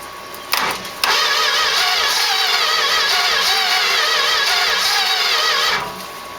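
Starter cranking a 1969 Plymouth Road Runner engine with a newly fitted distributor, two short bursts then a long, loud, steady churning crank with a backfire pop through the exhaust, ending abruptly.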